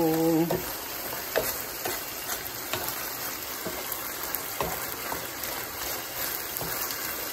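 Ampalaya and beef stir-frying in a pan, a steady bright sizzle throughout with occasional clicks and scrapes of stirring, close and continuous with no talking.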